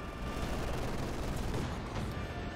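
Dense, continuous gunfire crackles through a tactical strategy game battle, rapid overlapping shots and bursts at a steady, loud level without pause.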